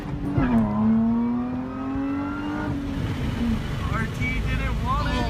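A car races a Dodge Challenger off the line, with a loud engine roar rising in pitch as it accelerates, then other revving engines, under talking voices.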